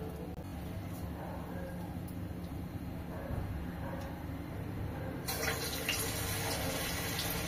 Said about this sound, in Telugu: ఇప్పుడు ఆయిల్ మంచిగా వేడైంది. ఇప్పుడు చిన్న చిన్నగా బోండాలు వేసుకుందాం.